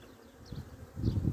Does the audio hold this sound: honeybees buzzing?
yes